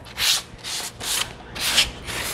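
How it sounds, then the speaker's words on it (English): A sanding pad scuffs old, flaky varnish off wooden furniture in five rhythmic back-and-forth strokes, close and crisp, with no voices. "And that's all there is to scuff sanding."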